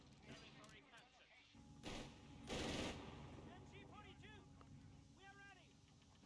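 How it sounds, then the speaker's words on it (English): Machine gun fire in the Company of Heroes 3 strategy game, bursts of rattling gunfire mixed with louder blasts and battle effects, a commentator talking over it. "The cloaked MG really helping control the middle right now."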